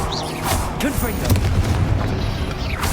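A Confringo spell goes off in Hogwarts Legacy as a dense, booming blast with crackling bursts, while a voice shouts over the loud, continuous din of combat.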